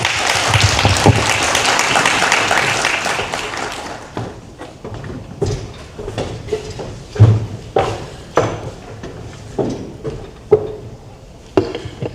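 Audience applause at an annual public lecture on economic sectors in KwaZulu-Natal, loud and dense for about four seconds before it thins into scattered claps and thuds.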